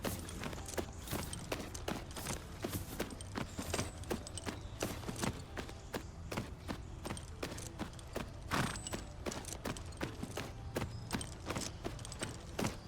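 Horse walking in a horse riding video game, a steady clip-clop of hooves at walking pace over faint background ambience, with no talk.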